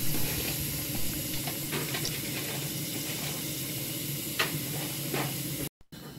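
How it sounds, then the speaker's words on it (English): A steady, continuous hiss of escaping steam from a 5-inch gauge model steam locomotive under steam test runs throughout, even and unbroken, with a brief dropout near the end. "the blower was working fine and steam was getting up to working pressure"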